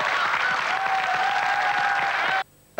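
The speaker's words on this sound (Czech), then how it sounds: "Tleskáme" A television studio audience applauds in sustained, dense clapping that stays loud and steady, then breaks off abruptly into near silence, with a brief sound returning at the very end.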